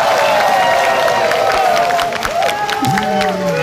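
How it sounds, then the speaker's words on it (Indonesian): Audience at a 2019 presidential debate applauding and cheering, a loud crowd roar mixed with clapping, with voices and tonal sounds threading through it. "Boleh tepuk tangan, berikan dukungan yang paling meriah"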